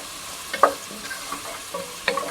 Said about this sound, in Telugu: మనకి ఇది కూడా కొంచెం ఫ్రై అవ్వాలి ఆయిల్లో